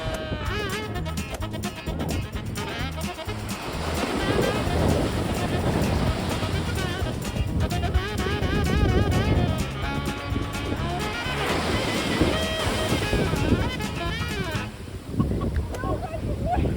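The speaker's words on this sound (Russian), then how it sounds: "это получается тот самый пляж, который мы выбрали для того, чтобы первый раз искупаться в океане" Ocean surf rolls onto a beach in Portugal, a steady broad wash of breaking waves with wind buffeting the microphone while people talk over it.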